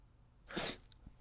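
One quick sneeze, a sharp breathy burst up close followed by faint soft sounds, with no talking.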